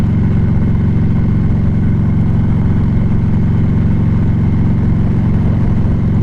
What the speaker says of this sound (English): I don't know if you guys can hear the pipes, but they're not overly loud, but they've got a good throaty sound, like a deep throaty sound